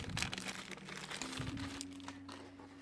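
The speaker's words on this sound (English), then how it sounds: "So most of the accessories are covered in a plastic bag." A plastic bag crinkles and rustles steadily at close range as it is handled and opened to unwrap the accessories of a Cang Toys Xiao Qinglong Loong Ji figure, with no talking.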